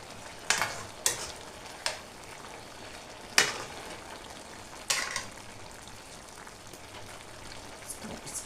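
Irish potatoes frying in a pot while being stirred, several sharp scraping clatters of the spoon at irregular intervals over a soft continuous sizzle, close and fairly quiet.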